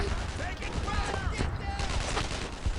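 Rapid gunfire during a battle in Brothers in Arms: Earned in Blood, a dense, continuous crackle of shots and impacts filling the scene, with shouted voices mixed in.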